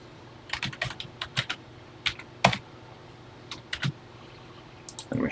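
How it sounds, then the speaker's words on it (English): Keys clack on a TI-99/4A computer keyboard in irregular bursts of single presses and short runs, close and clear, with no voices. "Okay, so let's type this."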